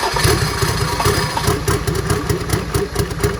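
A Mercedes OM606 diesel engine swapped into a Land Rover Defender runs at idle with a choppy, rhythmic chugging, loud and close, with no voices.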